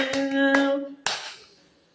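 A few sharp hand claps ring out alongside a sustained sung or hummed tone, then one last clap decays into quiet; close and moderately loud, with no talking.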